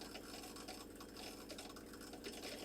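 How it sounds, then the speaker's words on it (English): A water pump surging with a steady, fast rattling chatter like a jackhammer, running continuously as loud mechanical background noise. "you can probably hear that pump in the background making quite a bit of a racket"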